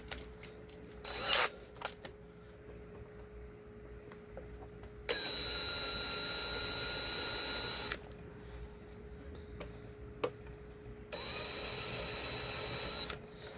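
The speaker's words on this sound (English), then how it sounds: "we're just gonna grab a slightly bigger drill" A slightly bigger drill bores into a plastic PDP Riffmaster guitar controller, with two sustained steady whirring bursts of about three seconds each, separated by quiet handling clicks and taps.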